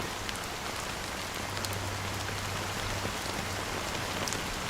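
Steady rain falling on a surface, a dense continuous hiss of raindrops with no voices, evenly loud throughout at a moderate level.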